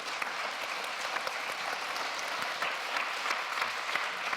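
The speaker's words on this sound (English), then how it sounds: "we need to get some more applause here" Audience at a planet-saving debate applauding steadily throughout, a dense wash of many hands clapping at moderate distance with no voices over it.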